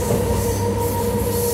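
A DEMU passenger train on the Anantapur to Bengaluru route runs with a loud, continuous rumble and steady wheel hum, with a faint squeal on the rails and no voices.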